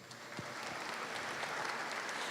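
Audience applause at a Massachusetts developmental disabilities reception, a steady wash of many hands clapping at moderate distance, continuous and even throughout with no speech over it.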